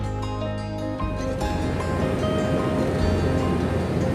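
Waves wash steadily onto a beach shore where anglers go casting, a continuous broad surf hiss with a faint steady hum beneath it.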